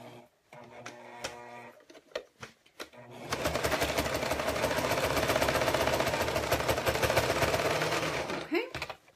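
Sewing machine topstitching a zipper, a few short stitching bursts then a long steady run of rapid stitching, close and fairly loud.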